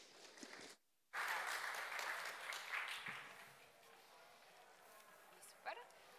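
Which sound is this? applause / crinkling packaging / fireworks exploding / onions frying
applause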